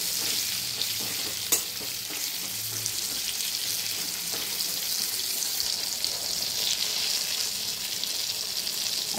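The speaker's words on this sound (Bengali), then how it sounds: "পটলগুলো একটু লাল করে ভেজে নেব।" Pointed gourd (potol) pieces fry in a pan with a steady, close sizzle and occasional stirring clicks, no voices.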